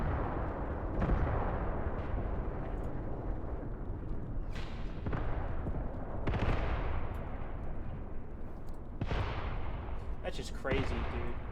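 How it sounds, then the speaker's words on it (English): Small infantry guns fire in the Graviteam Tactics war game, a series of sharp booming shots at irregular intervals over a constant rumbling battle background, with someone talking throughout. "These guys are firing off. These are little infantry guns."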